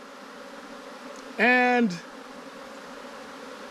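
A single bee buzzes close by for about half a second during a Texas honeybee hive inspection, a loud steady drone standing out from a faint background hum.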